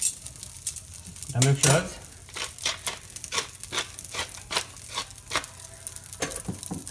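Lobster tail searing in a pan for a mixed chicken and seafood paella, a steady sizzle broken by clicks and taps of a utensil, with a brief burst of louder frying and a short spoken phrase near the start.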